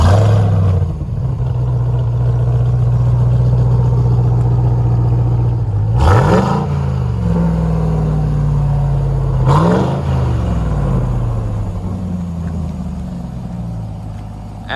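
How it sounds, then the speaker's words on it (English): A 2021 RAM TRX pickup's engine settling into a deep, steady exhaust growl, with two sharp throttle blips that swell loudly before dropping back to a rumbling idle, close and without talk. "Absolutely just a vicious growl from that exhaust system."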